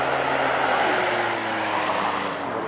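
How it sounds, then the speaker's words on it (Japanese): Propeller airplane engine at a ski resort, a steady close drone with low harmonic tones holding level and loud throughout. "あの飛行機に乗ります。"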